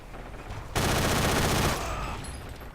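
Gunfire in the online shooter Forgotten Hope 2 during a large multiplayer battle: a sudden loud burst of rapid automatic fire lasting about a second, then a dense roar of combat noise tapering off.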